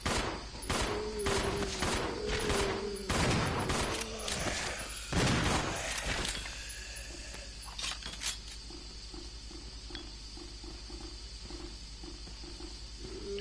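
Rapid bursts of gunfire from Billy in the video game Resident Evil Zero, loud and dense in the first six seconds, then a few scattered shots fading into quieter game ambience and creature sounds.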